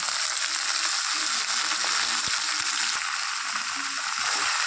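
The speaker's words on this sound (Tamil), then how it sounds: "இப்போ இதோட கீரையை நல்லா போட்டுக்கோங்க" Ponnanganni greens fry and get stirred in a pan for a keerai kootu, a steady close sizzle with occasional scraping knocks from the spatula and no talk.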